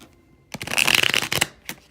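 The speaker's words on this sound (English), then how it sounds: "I'm going to shuffle again a little bit on camera for you" A deck of oracle cards is shuffled close by: one dense papery riffle lasting about a second, then a short, quieter flick of cards after a brief pause. No one speaks.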